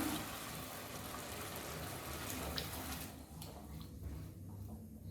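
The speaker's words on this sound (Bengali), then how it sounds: "এবার আমি জল দিয়ে দেবো এখানে জল দিয়ে দিলাম" Water is poured into a pan of fried spice paste for shahi paneer masala, a steady rushing hiss and bubbling that eases off toward the end, close and alone.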